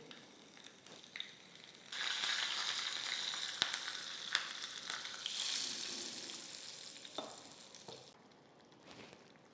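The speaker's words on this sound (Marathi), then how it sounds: "याला छान साजूक तुपाची फोडणी आपण देऊ" Ghee tempering with kasuri methi, cumin and green chilli for dhaba-style chole sizzles and crackles steadily, rising louder after a quieter start, with occasional stirring clatter near the end and no voices.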